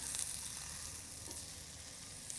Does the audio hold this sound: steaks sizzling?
yes